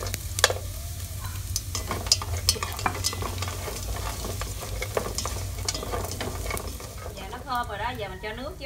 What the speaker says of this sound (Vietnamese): Mình cháy mấy con tôm khô cho nó thơm nấu canh.